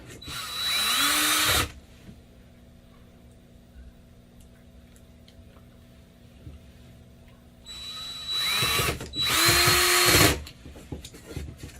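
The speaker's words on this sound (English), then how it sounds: "drill it in here for extra security to make sure this stays in place" A power drill drives screws into an arcade cabinet in two loud, whirring bursts separated by a quiet pause.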